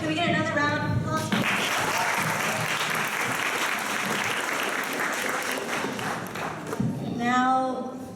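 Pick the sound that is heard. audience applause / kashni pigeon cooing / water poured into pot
audience applause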